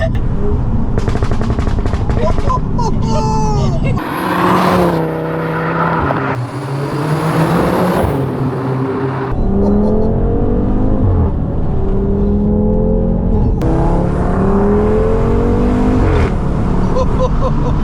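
Audi RS3 8P Stage 2 with about 460 bhp accelerating hard, the engine rising in pitch through several upshifts marked by sharp cracks and pops, loud from inside the car, with excited voices over it.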